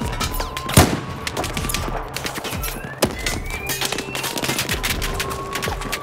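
Battlefield 4 gameplay with repeated gunshots and bursts of fire over a dense, loud game soundscape, including one sharp, prominent shot and several others scattered throughout, with no talking.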